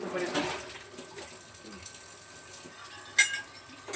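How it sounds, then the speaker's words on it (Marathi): Tap water runs steadily into a sink while a steel plate is rinsed, with faint clinks of dishes and one sharp clatter near the end, set in a home kitchen where dosas are being made. "ताट धुवून घेतो पर्यंत."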